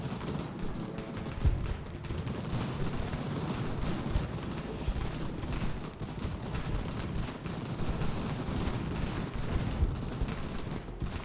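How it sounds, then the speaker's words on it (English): Cannon and artillery fire rumbles continuously in a Revolutionary War battle in the strategy game Ultimate General: American Revolution, a dense, booming roar of distant shots with no voices. "Cannons are definitely going to hurt."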